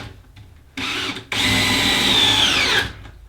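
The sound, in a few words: power drill driving screws into wall top plate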